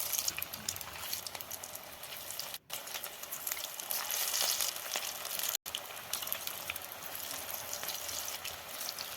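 Potatoes deep frying in hot oil in a pan, a dense, steady close sizzle broken by two brief dropouts.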